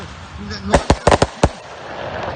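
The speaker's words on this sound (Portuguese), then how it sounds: "No máximo que a gente tem uma bombinha que você compra aí" Small store-bought firecrackers pop in a quick irregular burst of about six sharp bangs at an outdoor protest camp, loud and close against a murmuring background.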